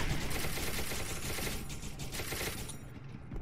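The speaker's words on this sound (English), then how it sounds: "Well, they shoot at us." Enemies in the video game SCP: Become Human fire a rapid, continuous stream of crackling gunshots that run together into a dense rattle, fairly faint and steady, with no clear pauses.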